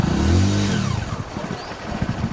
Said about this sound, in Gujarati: માનવી બેન બાઇક ચલાવું છે.